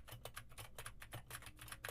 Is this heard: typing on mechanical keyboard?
yes